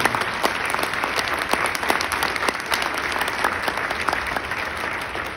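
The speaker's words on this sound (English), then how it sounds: "Can we give our teachers another round of applause?" Audience at a Teacher of the Year speech applauding for the teachers; dense, loud, sustained clapping from a large crowd for several seconds, with no talking over it.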